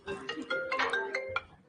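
A mobile phone ringtone plays a faint, short melodic run of bright tones, with a soft voice underneath.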